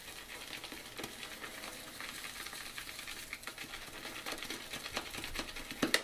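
A shaving brush swirls and loads up on Mickey Lee Soapworks The Kraken shave soap for face lathering, a steady close, wet scratchy patter with small clicks, heard alone without talk.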